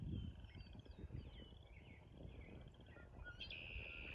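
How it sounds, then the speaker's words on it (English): Faint birdsong from blackbirds in the distance, scattered whistled phrases over low wind rumble, with a brighter note near the end. "You hear the blackbirds in the background?"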